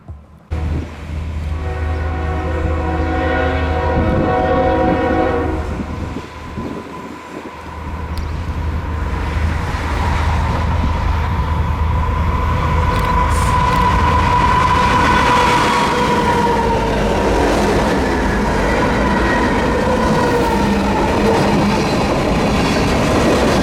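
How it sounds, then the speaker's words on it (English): A loud Kansas City Southern freight train rumbles past close by in Oklahoma with a long, blaring horn, then continuous rolling and clattering of wagons. "We'd follow this train northbound all the way to Watts."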